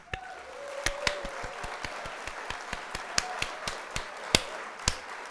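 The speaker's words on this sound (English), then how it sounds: "So we'll hit the applause." Applause sound effect triggered on a workshop livestream: a steady bed of clapping hands with sharp, evenly scattered claps running the full few seconds at moderate level, no talking over it.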